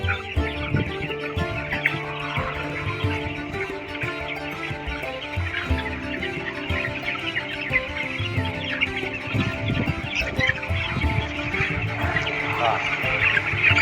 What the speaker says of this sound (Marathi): हा हे पोल्ट्री फार्म.